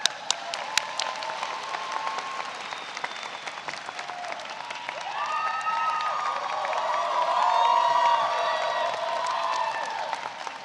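A large audience at a law school commencement ceremony applauds in a dense, sustained patter of clapping that swells toward the end, with a few cheers and whoops mixed in.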